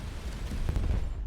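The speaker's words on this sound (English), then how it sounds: "That explosion was the result of a collapse of a warp flux field." A warp flux field collapsing into an explosion in the space game Starcom: Unknown Space: a rumbling, crackling blast with a low boom that swells midway and holds steady to the end.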